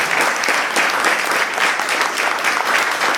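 A full audience claps steadily and loudly at a comedy hypnotist's New Year's Eve First Night show in State College, Pennsylvania, with dense, continuous applause throughout.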